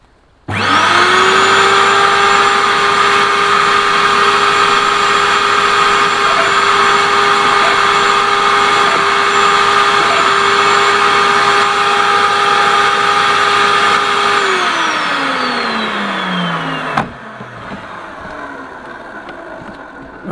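A MacAllister MSHP2800D-2 garden shredder runs at a steady, loud whine for about fifteen seconds, then winds down with falling pitch and stops, followed by faint rustling.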